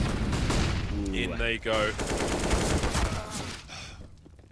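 Rapid bursts of gunfire from a Counter-Strike match crackle in quick volleys under an excited commentator's voice, the shots close and sharp amid layered game noise.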